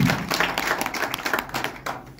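Brief clapping from a small audience at an office opening event, a dense patter of hands lasting about two seconds at moderate loudness.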